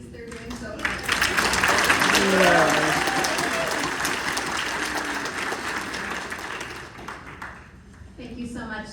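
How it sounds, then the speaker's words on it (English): An audience at a county disability forum claps warmly for the co-MCs. The applause swells quickly, holds dense and steady for several seconds, then fades, with a voice speaking at the start and end. "Extra clap for our co-MCs."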